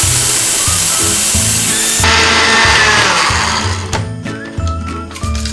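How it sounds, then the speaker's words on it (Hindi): An electric spice grinder milling whole garam masala spices runs loud and steady with a harsh, rattling whine that holds throughout, close to the listener and alone with no voices. "गरम मसाला अच्छे से ग्राइंड हो चुका है,"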